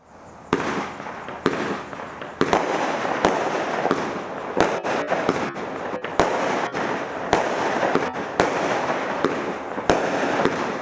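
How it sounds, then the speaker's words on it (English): Lidl 25-shot aerial firework display with golden tails and glittering stars: a steady run of sharp bangs and crackling bursts, roughly one every half second, with a continuous hiss of crackle between them and no talking. "a spectacular 25-shot aerial display featuring a variety of impressive effects such as golden tails and glittering stars"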